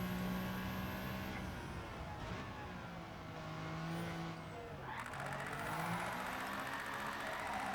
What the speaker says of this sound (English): It's so quiet with the stock exhaust.